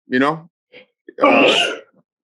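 A single close, forceful sneeze bursts out in a quiet indoor podcast setting, preceded by a short vocal sound and a faint click.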